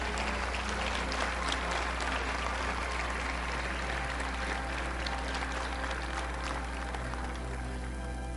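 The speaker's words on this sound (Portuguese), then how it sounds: "Dê para Jesus uma forte salva de palmas." Strong audience applause at a church cell-vision seminar in Lages, a sustained wall of clapping from a large crowd over a steady low hum, loud throughout.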